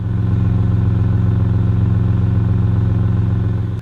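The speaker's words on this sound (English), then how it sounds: "The exhaust sounds perfect." Idling engine and exhaust of a used SUV on a cold day: a steady, close, low rumble with an even pulsing throb, holding constant for a few seconds with no voices.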